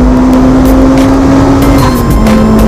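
A 400hp turbocharged Lotus Exige pulls hard through the gears on a race track, its loud, steady engine drone rising in pitch, then dropping briefly at a shift before climbing again, heard from inside the car.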